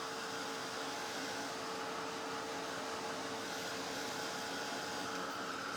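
A hot air tool blows steadily on a Dollar Tree craft heart, a continuous close whooshing roar with a faint whine, unbroken for the whole stretch and with no voices.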